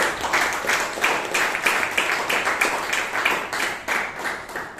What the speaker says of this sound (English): Please give a huge round of applause for the Sergeant at Arms, Toastmaster Shreya.